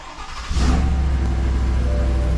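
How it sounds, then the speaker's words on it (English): A 2022 Chevy Silverado pickup truck starting up, a brief crank followed by the engine catching into a loud, steady idle that runs to the end with no talk. "So you want to turn the truck on."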